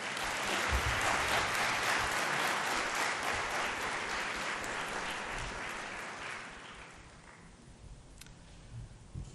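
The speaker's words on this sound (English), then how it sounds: "And I'd like to request that we appreciate that with a round of applause to Pujita." Applause from an audience at an awards ceremony, a dense wash of clapping that starts strong, holds for several seconds, then gradually thins and fades out.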